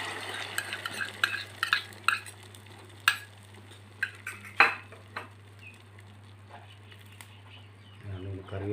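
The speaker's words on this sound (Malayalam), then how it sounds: "നല്ല ഉപ്പും കുറച്ച് കുരുമുളക് പൊടി ഇട്ടിട്ട് നമുക്കൊന്ന് മിക്സ് ആക്കാം." Eggs being mixed with salt and ground pepper in a bowl for an omelette, with a utensil clinking and scraping against the bowl in irregular taps over a steady background hum.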